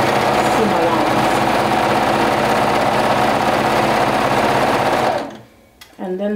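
Sewing machine running steadily and loudly as it stitches a seam on a folded romper or dress edge, continuous rapid whir for about five seconds, then stopping with a short pause before a voice speaks briefly.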